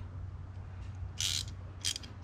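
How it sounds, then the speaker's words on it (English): A pneumatic air ratchet works on a starter bolt of a 2015 Nissan Versa Note, firing two short, bright whirring bursts over a low background hum. "Now I'm gonna be using this air ratchet to unscrew it."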